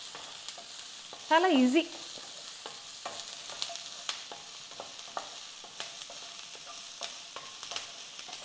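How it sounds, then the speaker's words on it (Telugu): Onions frying in oil on high heat until golden brown, a close, steady sizzle with scattered crackles and stirring clicks, broken once by a brief whistle-like tone, while a voice speaks a couple of words. "ఉల్లిపాయలు కూడా గోల్డెన్ బ్రౌన్ వచ్చే వరకు వేయించుకోవాలి"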